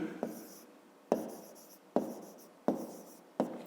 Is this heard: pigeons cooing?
no